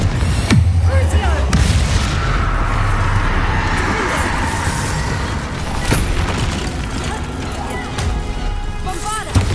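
Confringo spell explosions in the video game Hogwarts Legacy, loud booming blasts and crashing impacts over a dense rumbling battle din, with a sharp burst near the start and more near the end, and a voice speaking now and then.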